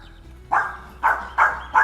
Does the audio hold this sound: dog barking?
yes